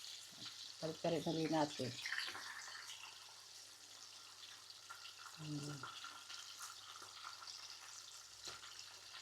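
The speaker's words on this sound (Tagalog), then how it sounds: "Hanggang sa matapos natin lahat guys ng ating karneng ipiprito natin ng ganito." Pork pieces frying in a pan, with soft sizzling and a few bursts of stirring or scraping near the start and again midway, partly under a voice speaking.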